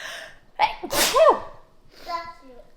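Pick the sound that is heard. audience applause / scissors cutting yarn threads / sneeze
sneeze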